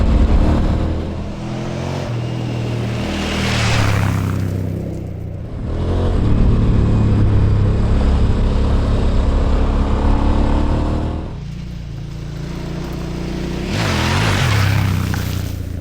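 Dirt motorcycle engine revving and accelerating through a mud hole on a wooded trail, loud and close, with the throttle rising and falling in surges and no talk.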